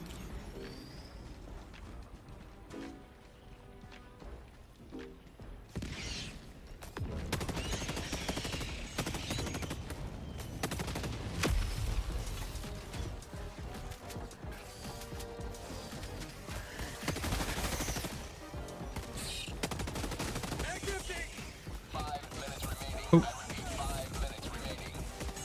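Video game gunfire comes in scattered bursts and rapid volleys, mixed with other game noises and mechanical clicks at a moderate level.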